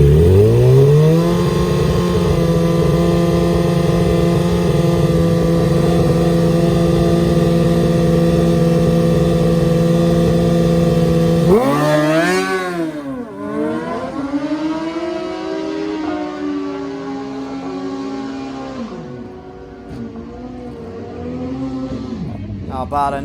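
A stock-wheelbase drag bike motorcycle on a 9-second quarter-mile run, starting with a loud sustained high-pitched engine whine, then a sharp rising and falling sweep as it shifts, with the roar continuing more distantly toward the end.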